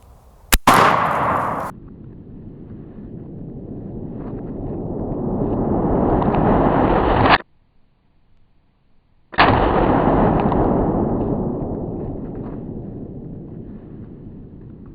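A Marlin 1895 lever-action rifle fires once at close range, a sharp crack whose heavy boom swells and rolls on for many seconds as a loud reverberating echo, broken by a brief silent gap.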